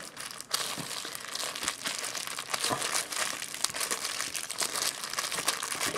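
A small, brand-new stuff sack being crumpled and stuffed into its tube, continuous close crinkling and rustling of stiff fabric with short bursts of scrunching and no talk.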